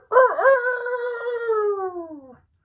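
A single loud rooster crow, close by, rising then holding a long drawn-out note for about two seconds before cutting off, with no other sounds around it.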